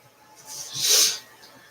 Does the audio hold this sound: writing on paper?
no